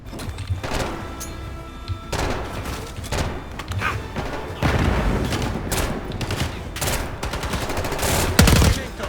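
Gunfire and a grenade in the Call of Duty Black Ops 6 video game: repeated bursts of rapid shots and sharp cracks, with a heavier thudding blast near the end.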